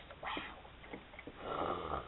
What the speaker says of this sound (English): he snores